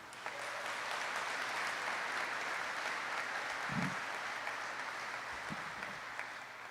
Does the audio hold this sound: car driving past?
no